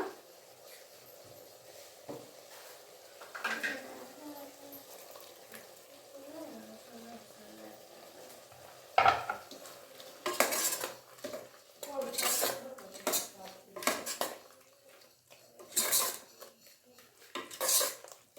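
Ground masala stirred in a pan for mushroom gravy, first with soft scraping and then with a burst of clattering metal strokes against the pan in the second half, fairly close, with a faint voice early on.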